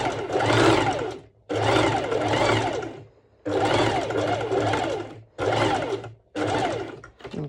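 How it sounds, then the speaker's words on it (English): A sewing machine runs a straight stitch along the side of a cowl neck top in five loud bursts of roughly one second each, separated by brief pauses, with a whirring rise and fall as speed changes. "I'm going to make a straight stitch over the sides"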